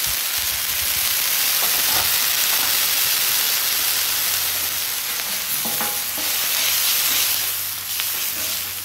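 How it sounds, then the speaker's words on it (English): Garlic frying on a flat top griddle, a dense continuous sizzle with occasional spatula scrapes and taps, close and fairly loud with no voices. "just add a little bit of garlic and make it fragrant"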